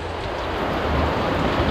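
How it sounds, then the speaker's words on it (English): Steady rain falls outdoors during the Guam Liberation Day parade, a continuous broadband hiss of drops on surfaces with a low rumble underneath, fairly loud and even throughout, with no voices. "Of course, it's gonna rain on Liberation Day"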